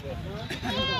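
A goat at a livestock market bleats once, close and wavering, over the chatter of the market crowd.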